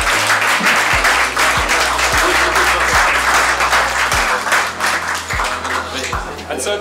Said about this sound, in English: So if you could give a round of applause for Bitsy Bits Cat's Minecraft cake and Lean